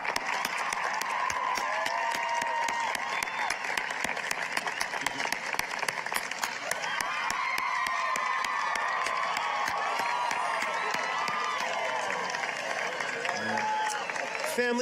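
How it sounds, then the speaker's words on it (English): A large outdoor crowd at a high school commencement on a field applauds graduates, continuous clapping mixed with cheers and shouts, and voices talking and calling out throughout. "Please join me in one last round of applause for these fine graduates."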